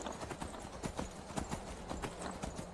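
Steady clip-clop of horse hooves in Skyrim, a quick rhythmic trot at moderate volume with no talking over it.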